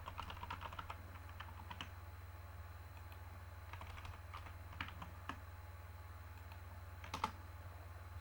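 Quiet, fairly close typing on a computer keyboard, irregular bursts of light key clicks separated by short pauses, over a steady low electrical hum.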